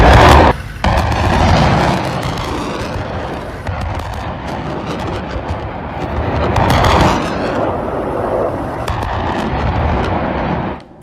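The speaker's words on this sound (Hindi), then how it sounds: "थोड़ी देर पहले आपको हमने धमाके की आवाज सुनवाई थी" Explosions from military strikes as Afghanistan attacks Pakistan in news footage: loud, dense booming and rumbling blasts that run continuously with rough, crackling bursts and no clear pause.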